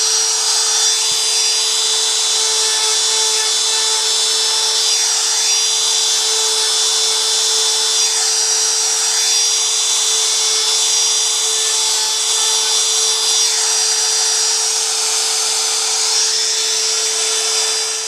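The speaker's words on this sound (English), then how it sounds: "I'm going to go ahead and fire up the router" A wood router trims and cleans up a board for a desk sign, its high steady whine running continuously close by with slight rises and dips as it moves along the edge.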